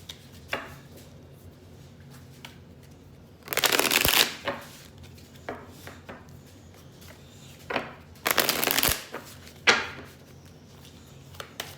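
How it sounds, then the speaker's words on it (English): Tarot cards being shuffled for a reading, two longer riffling bursts separated by brief card taps and snaps, close and fairly loud against a quiet room. "So let's pull some cards to kind of reveal what is to come."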